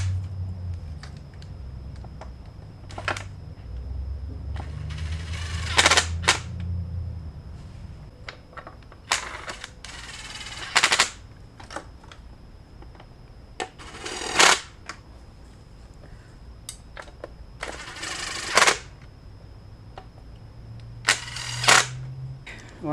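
A torque wrench on the valve cover bolts of a 2017 Honda Civic Si, heard as scattered sharp clicks and brief ratcheting bursts spaced out over a quiet workshop background, close to the listener.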